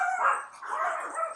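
Dogs bark and yip in a rapid, overlapping string of high, strained calls, somewhat muffled as if from another room, continuing steadily with no talking.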